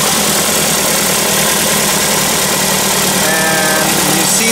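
A CAT forklift engine with a misfire from a shorted ignition coil runs steadily throughout, a continuous close mechanical drone with a rough, uneven pulse and no talking.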